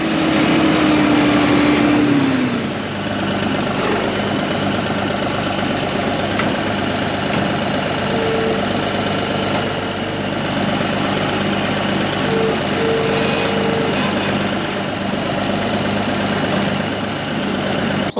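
A farm tractor's engine runs steadily during hay work at a stable, a continuous loud low drone that lasts the whole stretch with no talking.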